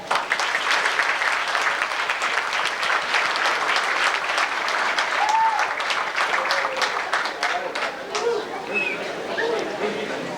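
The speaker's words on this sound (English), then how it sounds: "I think they all deserve a big round of applause." Guests at a school sports banquet give a long, steady round of applause, many hands clapping together at an even level for about ten seconds, with a few faint voices scattered through it.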